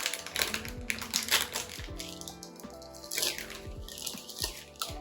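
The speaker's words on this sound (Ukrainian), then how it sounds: "Давайте відкриємо цей пакетик." Crinkly plastic packaging of an American military ration packet rustles and tears in short bursts, with sharp crackles and taps close by, no voices.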